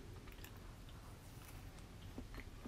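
Someone biting and chewing datemaki, a sweet rolled omelette, with soft close mouth sounds and faint squishy chewing over low background hum.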